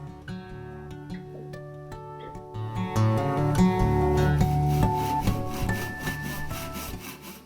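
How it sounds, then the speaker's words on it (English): A Japanese pull saw cuts through a wooden ukulele neck held in a vise, sparse strokes at first building into a dense, continuous rasping scrape that tapers off near the end. "I use a Japanese pull saw for this."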